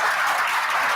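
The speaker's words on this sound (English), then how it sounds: "give them a nice round of applause" Brief burst of steady audience applause welcoming panelists at a live pandemic-preparedness webcast, dense and even throughout with no pauses.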